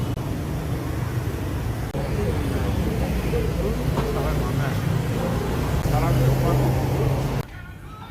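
Steady low engine rumble and road noise inside a moving bus, continuous for the whole ride and ending abruptly, with faint background chatter underneath.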